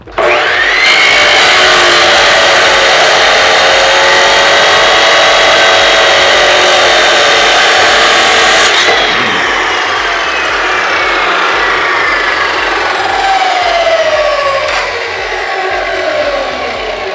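A chop saw rips through metal parts in a fabrication shop, a loud sustained abrasive whine that runs steadily for several seconds, then winds down with a falling tone as the blade spins to a stop.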